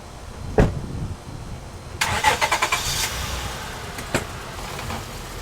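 A 2005 Honda Accord's engine cranks in a short burst of rapid chugs and catches, preceded by a sharp knock like a door and followed by another click, heard close up in a garage-like space with no talk.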